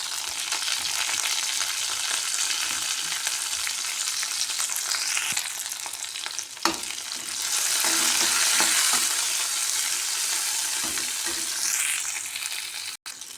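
Dried red chilies, green chilies and curry leaves crackle and sizzle in hot oil for a curd curry, a dense, steady frying hiss close to the mic. Occasional stirring scrapes and a brief louder burst of spitting break it up, with no voices.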